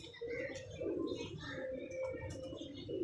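A pigeon coos continuously in low, rolling murmurs, close by, with faint chirps and background noise.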